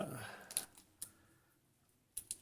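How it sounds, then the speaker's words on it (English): Tape peeled off a fabric purse during a sewing project, heard as a few sharp, close crackling rips separated by pauses, with a final cluster of tearing clicks near the end. "there's that tape coming right off and stuck to my finger"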